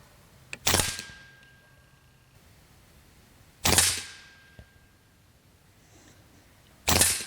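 A Niksan Ozark-TW PCP air rifle fires 25.4 grain FX pellets outdoors: three sharp, loud cracking shots spaced about three seconds apart, each with a short fading tail, and faint clicks between.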